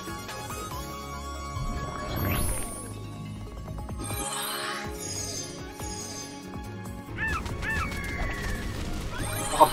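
Chicken monsters squawk and honk in the online game Flyff Universe, with repeated fowl-like cries over game music and combat effects at moderate volume.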